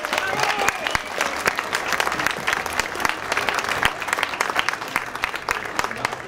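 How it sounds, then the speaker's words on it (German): A crowd at an outdoor protest rally in Munich claps for the stage and technical crew, dense continuous applause with crisp individual claps throughout, moderately close. "Einmal Applaus mal bitte"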